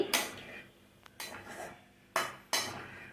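A lid lifted off a pot of boiled potatoes in a home kitchen, several sharp metallic clanks and clatters spaced apart, close and fairly quiet with a short clink between them.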